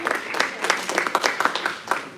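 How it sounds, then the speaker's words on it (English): A synagogue congregation claps during a Tu Bishvat seder service, a lively patter of hands with uneven bursts and peaks, moderately loud and continuous throughout. "Let's give him a big round of applause also."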